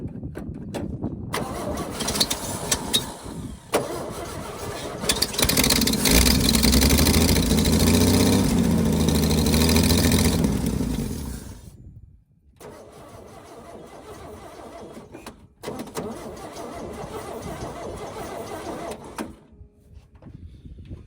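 An old oil field engine is cranked and catches, first a long loud churning crank that settles into a rough roar, then cutting out. After a sudden stop it restarts and runs unevenly before dying again, with no talking over it.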